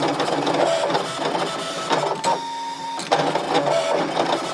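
A Brother ScanNCut cutting machine works through images on white cardstock, giving a steady, loud mechanical whirring and buzzing with short pauses and shifts in pitch as the blade carriage moves, with no voices.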